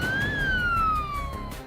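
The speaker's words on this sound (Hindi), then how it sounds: "सायरन बजाती और गलियों से दौड़ती तेज तर्रार बाइक एम्बुलेंस दौड़ी चली आएगी" A motorbike ambulance siren racing through narrow lanes, one loud wailing tone that climbs briefly and then slides slowly downward over a low traffic rumble.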